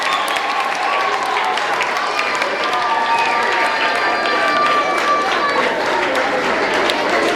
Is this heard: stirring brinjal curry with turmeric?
no